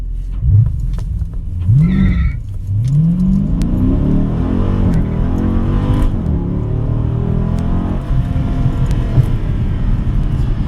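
A Dodge Scat Pack launching from 1,600 RPM on a stretch of road, engine loud and close, rising in pitch through two quick upshifts and then pulling hard and steadily.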